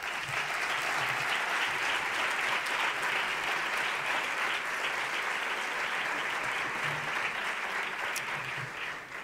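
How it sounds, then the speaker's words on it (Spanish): An audience applauds at a lecture on the plague in 17th-century Seville: dense, sustained clapping that stays loud and even for about nine seconds and fades slightly at the end, with no voices over it. "Pido un aplauso para ellos."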